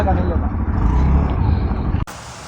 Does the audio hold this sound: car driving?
yes